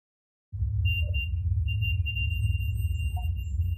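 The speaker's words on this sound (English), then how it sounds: "So you hear the REM pod go off" A REM pod ghost-hunting device going off with a steady high electronic tone that starts abruptly and holds through the clip, over a low droning hum.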